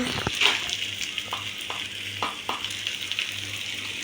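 Potatoes frying in a pan with salt and curry leaves, stirred in several scraping strokes over a steady, close sizzle; no voices.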